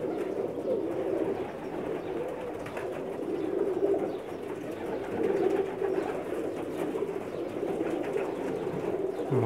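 Pakistani pigeons coo repeatedly at close range, soft low throaty calls rolling on in a steady overlapping rhythm throughout, with a faint background hum.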